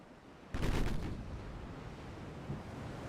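Naval guns fire in the warship game Ultimate Admiral Dreadnoughts: one heavy booming salvo with a rumbling tail, followed later by a fainter distant thud.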